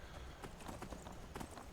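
Horse hooves clip-clopping in Skyrim as the rider climbs a mountain toward a dungeon, a quick run of faint, close hoof knocks in an uneven gallop rhythm, heard alone.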